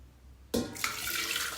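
Water splashes into a health pot in a home kitchen while making rock candy snow pear water, starting abruptly as a steady, close pouring stream without speech.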